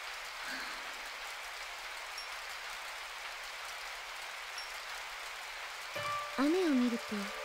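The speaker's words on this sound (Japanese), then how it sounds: "雨" In the Dreamcast video game Sakura Taisen 3, rain falls with a steady, even hiss throughout; a voice briefly speaks over it near the end.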